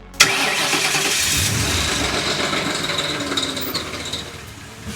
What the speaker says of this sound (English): that really rough idle on start